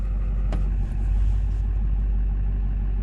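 A 2004 LB7 Duramax 3500 dually diesel truck, revived after sitting four years, runs and drives on a farmstead, giving a steady, loud low engine rumble that holds throughout with a brief click near the start.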